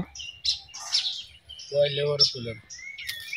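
A bird near a rural home calls with bright chirps and tweets mixed among voices talking nearby, fairly close and moderately loud.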